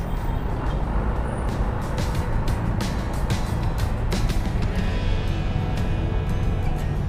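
Dense road traffic of cars and trucks around Antipolo, a continuous close wash of engine noise and tyre roar with scattered sharp hisses and knocks, like air brakes, rising through it.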